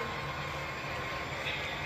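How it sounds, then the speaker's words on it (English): A model train runs at a train club, giving a steady close rumbling and whirring drone that holds for a couple of seconds without pause or speech. "And then check out the CX train."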